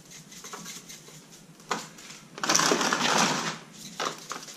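Hands pat and rub a heavy coat of spice rub onto a raw turkey before smoking it on a drum smoker, giving close, soft, irregular slaps and crinkly patting that swell louder midway through.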